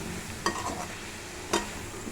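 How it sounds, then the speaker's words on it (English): Onions stirred as they fry in a pan, giving a steady soft sizzle with two sharp scrapes of a utensil against the pan, all alone without talk. "The onions are nicely turning its color. Keep stirring it so that it doesn't get burned."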